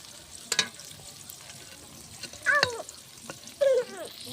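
An egg frying in a pan for a morning fried egg, a soft close sizzle with a few sharp spits and crackles popping out at intervals, no one talking.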